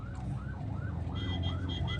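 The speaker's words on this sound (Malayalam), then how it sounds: "ആംബുലൻസ് പോകുമ്പോ ഇങ്ങനെ മാറ്റി കൊടുക്കട്ടാ." An ambulance siren wails on a road near a hospital with road works, a rising and falling tone cycling steadily over the rumble of nearby traffic, fairly close and loud.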